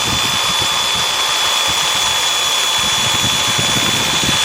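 Power drill running steadily off an ALLPOWERS 600W portable power station, a loud continuous whirring motor drone with a steady high whine and no breaks.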